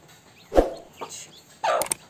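Chickens and chicks in a coop cluck and cry in a few short, close bursts separated by brief quiet gaps, with higher-pitched peeps toward the end.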